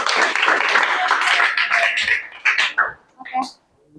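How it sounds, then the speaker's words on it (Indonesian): Classroom students clapping together after a group presentation, a brisk burst of applause that thins out and fades into scattered claps, with voices mixed in. "Kita kasih tepuk tangan dulu."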